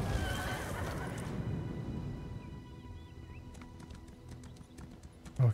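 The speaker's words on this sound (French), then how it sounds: "Cheval, le cheval" A horse in The Elder Scrolls Online whinnies in a loud, close burst that fades into faint trailing neighs, followed by a run of light rhythmic hoof clops near the end, with no talking.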